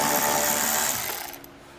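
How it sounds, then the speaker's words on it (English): A power tool with a 10mm socket runs a wheel well bolt out on a 2019 Jeep, giving a brief loud whirring that fades as it stops, close up and with no talking. "We'll remove this bolt with a 10mm socket."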